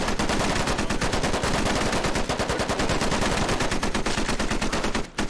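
Dense, continuous automatic gunfire from the game Squad, loud and close, with rapid overlapping shots sustained almost without pause and a brief drop near the end.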